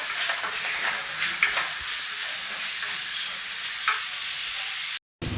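Onions frying in a pan for chicken masala, a steady loud sizzle with occasional scrapes of stirring, close up and with no voices.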